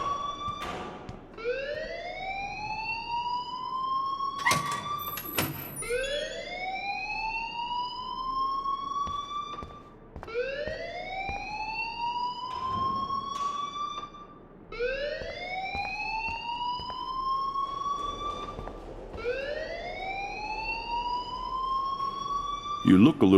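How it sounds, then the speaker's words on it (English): A rising and falling electronic alarm whoops repeatedly in the video game Life is Strange, five loud sweeping cycles with sharp clicks between them, close and dominant. "please turn off that alarm since that's your job"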